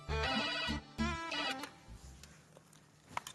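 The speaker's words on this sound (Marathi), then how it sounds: "फोन बघ ग कोणाचा आहे" A telephone rings in a home in a Marathi TV serial, two loud electronic ring bursts close by, followed by quieter room sounds and faint clicks.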